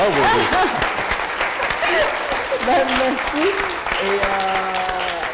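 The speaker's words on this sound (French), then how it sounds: "Mais avant, peut-être une bonne main d'applaudissement." Audience applause for author Kim Thúy at a talk: steady clapping from a crowd, with voices talking and murmuring over it the whole time.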